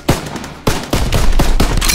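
Heavy repeated gunshots in Call of Duty: WWII during a Domination match in the Ardennes Forest, loud close reports spaced a fraction of a second apart over continuous battle noise.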